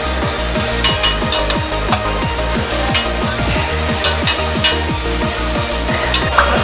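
Pork okonomiyaki with leek and cabbage cooking on a griddle at an Osaka hormone-grill shop, a loud sizzle under a steady series of metallic scraping and tapping strokes, close up, no talk.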